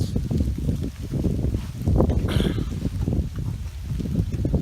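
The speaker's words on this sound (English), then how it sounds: "It's a little bit windy." Gusty Hurricane Irma wind buffets the microphone close up, a steady low rumble rising and falling, with a brief hiss of something rustling partway through.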